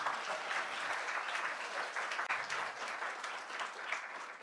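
An audience at a population forum breaks into applause, a dense sustained clatter of many hands clapping that holds steady for a few seconds with no voices over it.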